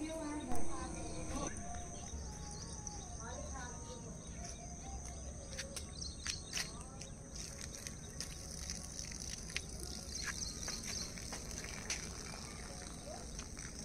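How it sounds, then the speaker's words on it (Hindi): Birds chirp and twitter in the early morning by a tulsi plant at sunrise, with scattered short calls over a soft steady background and a person talking throughout. "चिड़ियाँ चहचहा रही है सुबह सुबह"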